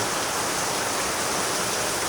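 Heavy monsoon rain pours steadily over a Konkan farm, a dense, loud and unbroken hiss throughout with no voices.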